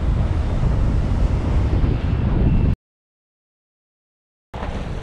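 Loud, steady roar of strong 20-30 knot wind buffeting the microphone during kitesurfing, blustering continuously and close, cut by a sudden silent gap before resuming.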